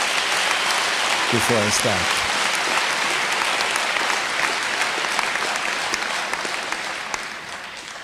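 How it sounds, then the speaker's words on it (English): Audience applause for the newly inaugurated university chancellor at a formal ceremony, a dense, steady wash of clapping from a large crowd throughout, with a brief spoken phrase partway in, tapering slightly at the end. "may we give a one round of applause again to our Chancellor"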